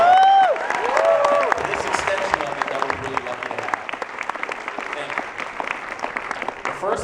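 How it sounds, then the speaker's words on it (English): Audience applause and cheering at a Comic-Con panel, a brief spoken voice at the start giving way to dense clapping that gradually thins and softens toward the close. "big round of applause to Liz Berger and everybody on Yeah."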